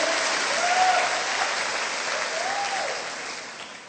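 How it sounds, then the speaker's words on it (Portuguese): A church congregation claps together in sustained applause during a worship service, a dense steady wash of hands that fades slightly toward the end, with faint voices rising briefly underneath. "Você pode aplaudir ao Senhor por isso?"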